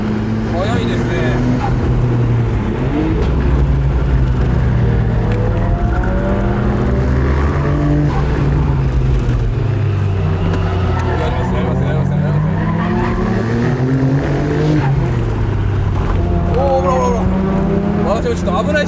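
Mazda RX-7 FC3S cars drifting on the Ōtarumi mountain pass produce a continuous rotary engine roar with rising and falling revs and tire squeal, while someone talks over it throughout.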